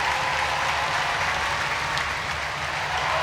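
Sustained applause from a crowd of about 9,000 at an ice hockey game between the Sheffield Steelers and Nottingham Panthers, a dense, steady wash of clapping filling the arena throughout.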